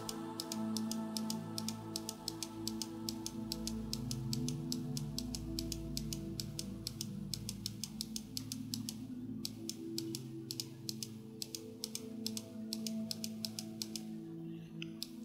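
Computer keyboard keys pressed in a rapid, steady stream of light clicks, close and fairly quiet over a low electrical hum, with a brief pause near the middle before the tapping resumes.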